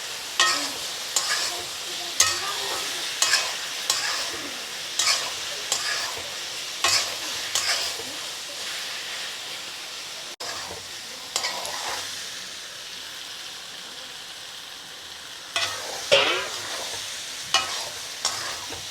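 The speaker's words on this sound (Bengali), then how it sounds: "আমি এখন একটু কিছুক্ষণ কষিয়ে নেব।" Boiled dhoka lentil cakes and potatoes being stir-fried in a pan for a vegetarian Bengali curry. A spatula scrapes in a steady rhythm of roughly one stroke per second over a soft, continuous sizzle.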